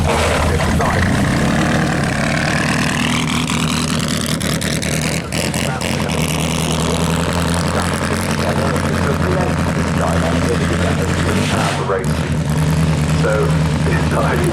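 A Lancia car engine with slight engine trouble idles with a steady low rumble that occasionally rises and falls, running continuously close by at a street parade.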